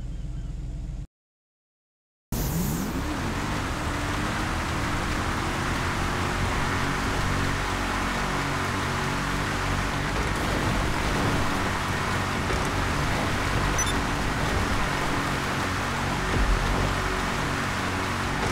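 Armored Enus Paragon R cars racing down a dirt road in GTA Online, a steady engine roar with rolling road noise that runs continuously after a brief silent gap near the start.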